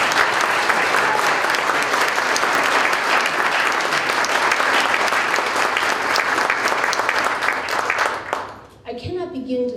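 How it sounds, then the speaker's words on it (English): Loud, sustained applause from an indoor audience at a college ceremony naming a new president, steady for about eight seconds before tapering off as a voice begins speaking. "Can I just have a round of applause for those people?"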